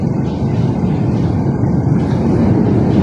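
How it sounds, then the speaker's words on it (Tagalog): An LRT light rail train passes beneath a riverside esplanade in Manila, making a loud, continuous low rumble that holds steady throughout with no voices. "Ayan, may LRT sa ilalim."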